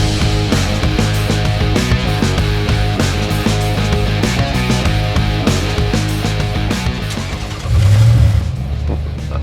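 A Mercedes-Benz CLK 200 fitted with a Toyota 2JZ engine, loud, sustained rumbling engine sound with steady throbbing, swelling briefly near the end, close to the car with possible music or chatter mixed in.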